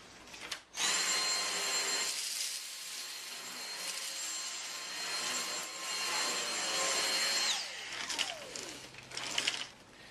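A Dyson DC59 Animal cordless vacuum runs with a loud, steady high whine for about seven seconds as it sucks up heavy sprouted lentils from carpet, then winds down with a falling pitch, followed by brief rattling.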